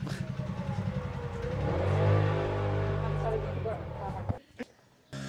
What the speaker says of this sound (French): Il y a une moto qui passe, faut se mettre sur le côté.